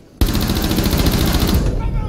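Rapid bursts of automatic gunfire ring out in a ranked multiplayer shooter game, loud and continuous for about two seconds, with a player's voice faintly under the shots.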